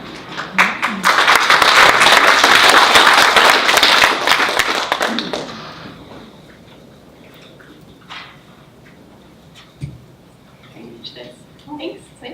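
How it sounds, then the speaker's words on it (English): Conference audience applause bursts loudly and thickly for about five seconds, then thins to scattered claps and small movements before a speaker begins talking. "It's nice to be applauded on your way up."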